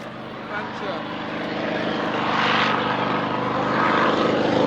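A Fairey Swordfish biplane's propeller engine drones steadily at an airshow at Duxford, growing louder as it approaches, with a voice talking over the hum.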